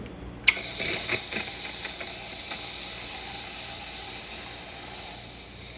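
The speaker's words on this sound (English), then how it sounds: "let's go ahead and test the steam. So you get nice strong steam." A Rancilio Silvia espresso machine's steam wand bursts open and releases a steady, strong hiss of steam that continues for several seconds after a sharp start, with faint clicks in the background.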